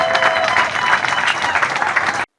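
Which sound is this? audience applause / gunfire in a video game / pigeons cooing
audience applause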